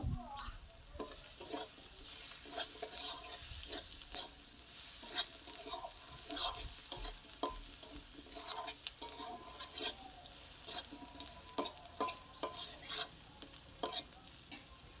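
Cut potatoes being stir-fried with spices in a pan before cabbage goes in, a low frying sizzle broken by frequent irregular spatula scrapes and clinks against the pan, close and continuous with no talking.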